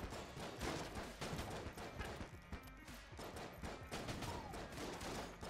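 Rapid chain of hand grenade blasts and gunfire in the video game Enter the Gungeon, a dense, continuous loud barrage of bursts with no pauses.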